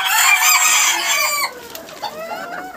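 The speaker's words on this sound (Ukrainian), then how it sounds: "О, дивіться, якраз курочка несеться" A hen clucks loudly and steadily while laying an egg in a backyard coop with bantams, the calls close and dense at first, then softer, scattered clucks follow.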